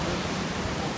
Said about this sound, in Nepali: यो मर्स्याङ खोला हो